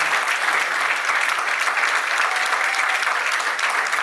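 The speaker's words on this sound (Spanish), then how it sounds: "Un gran aplauso para don Antonio." A crowd at a book presentation in Pichilemu, Chile, gives a dense, steady round of applause. The clapping stays loud and even throughout, with no voices standing out.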